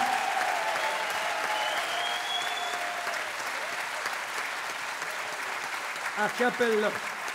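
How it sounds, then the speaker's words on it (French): A festival crowd applauds after an original composition in a live show, a dense, steady roll of clapping that eases slightly toward the end, where a voice briefly rises over it. "Un tonnerre d'applaudissements, s'il vous plaît"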